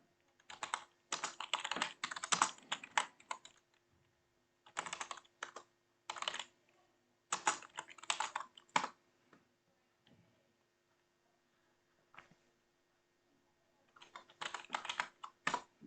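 Someone types on a computer keyboard nearby in several quick bursts of crisp key clicks, broken by short pauses and a long quiet gap before a final flurry, with no talking.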